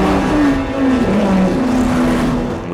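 Red race car engine from the film Ferrari, a loud continuous roar with shifting pitch as it revs, close and strong with no talk.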